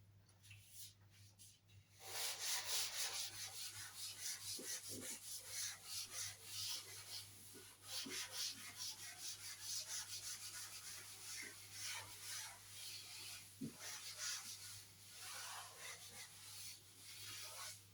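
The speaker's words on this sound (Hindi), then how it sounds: "इस क्वेश्चन को रब कर देते हैं" A duster rubs a written question off a classroom board with steady, scratchy back-and-forth strokes that continue for many seconds. The rubbing is close but quiet, over a low constant hum, and there is no speech.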